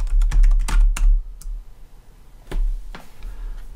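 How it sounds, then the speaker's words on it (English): Bursts of typing on a computer keyboard, close and crisp, a quick run of keystrokes, a pause, then a few more taps. "So just start typing the word contact."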